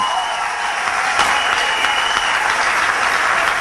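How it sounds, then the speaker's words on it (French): Sustained applause from a crowd at a church youth march in Treichville, a dense steady wash of clapping throughout, fairly loud and close. "On acclame le Seigneur pour lui."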